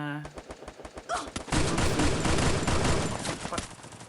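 Rapid bursts of gunfire from the Free Fire video game, with single shots giving way to dense automatic fire, loud and close over a background of game sound.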